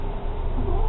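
Lissu the cat lets out a single short meow, close and fairly loud, lasting under a second.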